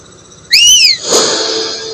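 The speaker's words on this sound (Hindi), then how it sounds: "सीटी क्यों बजा रहा है बे?" A person whistles a loud, rising-and-falling two-note whistle, followed by a shorter, hissier whistle blast, alone with no talking.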